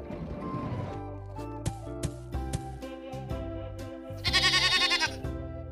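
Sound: goat bleating

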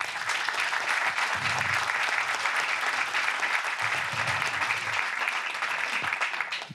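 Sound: applause

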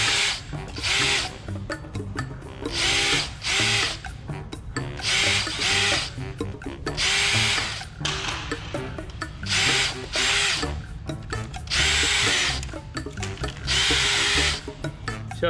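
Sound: drilling holes in an aircraft kit part

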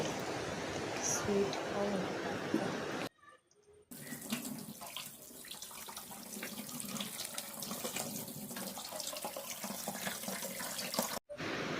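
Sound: water running while washing food in a sink

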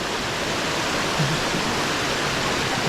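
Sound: waterfall at Phu Tham Phra, Bueng Kan

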